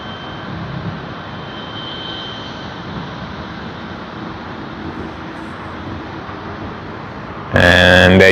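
A Qantas Airbus A330 jet at Sydney Airport produces a steady, loud engine roar that holds evenly, then a sudden louder burst of noise cuts in at the very end.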